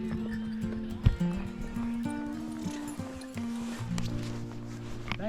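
A horse at Pahalgam in Kashmir moving with hollow hoof clops and a sharp knock, over a tonal hum and background voices, fairly close and moderately loud.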